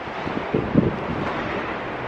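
Wind blowing outdoors and buffeting the microphone in a steady broadband rush, with a couple of brief louder gusts near the start.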